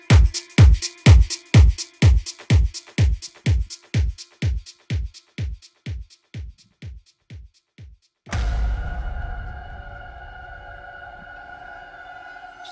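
A DJ echo effect on a mixed track repeats a punchy beat hit in a rhythmic train, each repeat quieter and closer together, then a loud sustained tonal chord swells in and slowly fades.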